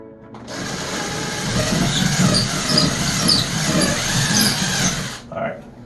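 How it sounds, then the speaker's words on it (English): A power drill bores into the wall of an old house to mount a floating shelf, running in one continuous, loud whirring stretch of about five seconds before cutting off, with a voice heard faintly over it. "let's go on and drill this one"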